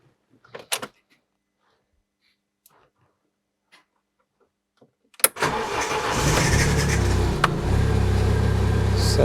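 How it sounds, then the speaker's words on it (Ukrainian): After a few faint clicks and door sounds in near silence, a Chery Jaggi car engine cranks and catches with a sharp burst, then settles into a steady, close idle. "Зараз заводимо і виганяємо машинку."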